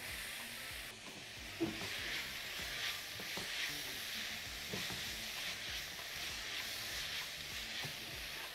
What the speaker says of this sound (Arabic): هنزل السجق مقطع صغير كده